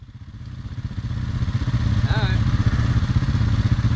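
Trials motorcycle engine revving up and pulsing steadily, growing louder over a few seconds, close by with a brief clatter partway through.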